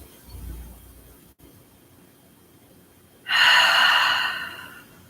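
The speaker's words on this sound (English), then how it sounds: "In through your nose. Exhale, sigh out through your mouth." Deep breathing during a hatha yoga session: a quiet inhale through the nose followed by a loud, breathy exhale sighed out through the mouth lasting about two seconds.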